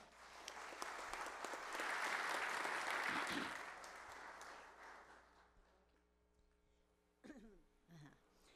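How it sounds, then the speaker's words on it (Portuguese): Audience at a solemn parliamentary session honoring people with rare diseases bursts into dense applause that builds, peaks around the middle, then fades out, followed by a brief voice near the end. "eu peço uma salva de palmas"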